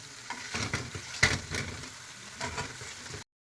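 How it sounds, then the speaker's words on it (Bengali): Spice paste for a potato and cauliflower dish fries over a high flame while being stirred steadily, a close, busy sizzle with scraping strokes and one sharper clink, then stopping abruptly. "মশলাটা কষতে হবে হাই ফ্লেমে"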